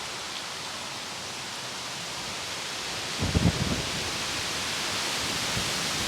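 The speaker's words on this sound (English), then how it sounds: "Today it's really windy." Strong wind blowing outdoors in a garden of seedling pepper transplants makes a steady broadband rush, with a brief louder gust or rustle midway.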